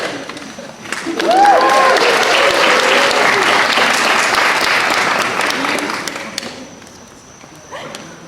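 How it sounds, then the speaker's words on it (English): Wedding guests at a Pittsburgh ceremony break into loud, dense applause and cheering for a reader coming forward, rising sharply after a second, holding steady, then fading near the end with a voice heard over it. "Let's actually give her a cheer"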